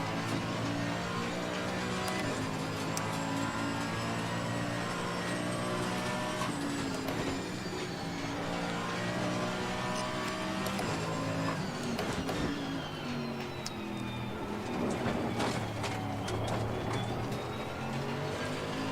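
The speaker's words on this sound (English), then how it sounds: "Angry, very, very angry V8, big capacity noises" A big-capacity V8 race car engine at Oulton Park circuit roars steadily and loudly, with sustained revving and gear changes blending into continuous dense engine noise.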